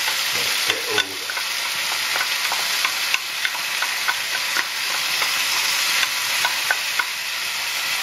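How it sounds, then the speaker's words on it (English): Tofu coated in Burning Indulgence hot sauce fries in a pan with a steady close sizzle, while a spoon stirs and scrapes through it in repeated sharp clicks and knocks. "So now it's just stir, stir, stir to stop it all sticking."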